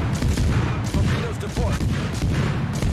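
Dense, continuous naval gunfire and booming shell impacts from World of Warships battleships, a loud rolling barrage that fills the whole stretch with little letup.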